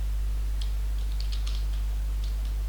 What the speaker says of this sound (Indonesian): Jadi kita ketikkan perintah